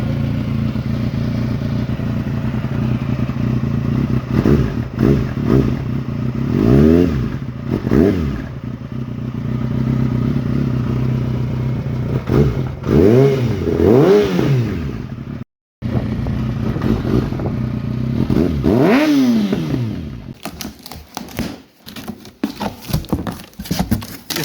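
A 2019 Kawasaki ZX-6R sport motorcycle engine idles with a steady low rumble, revved up in several short bursts that rise and fall, then runs rougher and choppier near the end.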